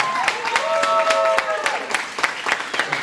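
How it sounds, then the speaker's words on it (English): An audience claps in a sustained wave, with distinct claps standing out, while a voice or brief tonal call rises over the applause midway. "give him an applause, a wave of applause,"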